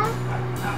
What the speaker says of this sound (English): because the dog has decided that he wants to eat the apple.